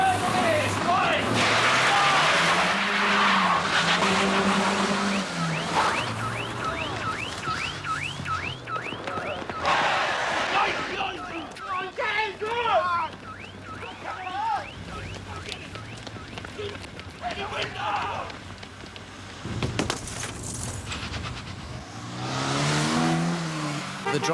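A pursuing car in a chase skids and accelerates hard, engine revving and rising in pitch with tires squealing, loud and close, mixed with shouting voices and other traffic noise.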